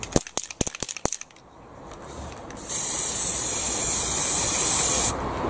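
Several sharp rattles of a spray paint can being shaken, then a steady loud hiss of the can spraying blue paint onto a cardboard beer mat, close up, cutting off near the end.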